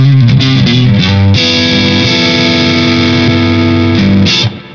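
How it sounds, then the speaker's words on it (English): An overdriven electric guitar through a vintage Boss CS-2 compressor sustainer pedal plays loud sustained chords and notes, smeared with echoing repeats and a long reverberant tail that fades at the end. "Let's add the overdrive, and then let's hear this compressor on and off"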